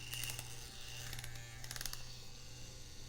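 An EvoTech S tattoo machine runs its needle at 7.5 volts, giving a steady close electric buzz with faint clicking and a constant low hum throughout.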